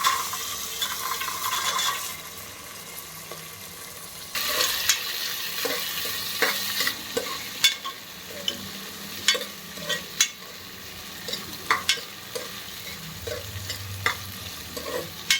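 Fresh green peas fry with ginger garlic paste in a pan while a spoon stirs them, producing a soft continuous sizzle broken by repeated scraping clicks and knocks.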